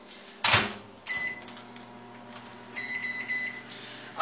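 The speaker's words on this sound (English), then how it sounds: "we're just going to go ahead and microwave that water to get it good and hot" A microwave oven heats a cup of water in a home kitchen: a loud clunk as the door shuts, a low steady hum, then a short run of electronic beeps near the end, close by with no talk.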